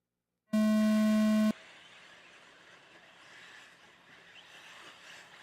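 A start tone for an electric 1/8 off-road RC buggy B-main race at a national event: one loud, pure electronic beep lasting about a second, then quiet track ambience with faint distant motor whine.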